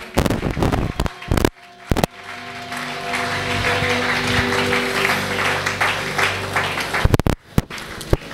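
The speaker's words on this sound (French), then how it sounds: "nous acclamons le Seigneur" A church congregation applauds, sustained clapping building and holding for several seconds amid loud bursts and a low tonal hum, with brief voices around it.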